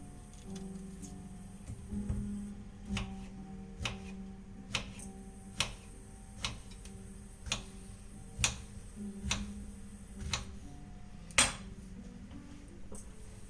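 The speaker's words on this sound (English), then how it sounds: "A bit more chopping." Knife chopping food on a board in a home kitchen, a steady series of sharp, separate taps about every half second to second, moderately close, over a low background hum.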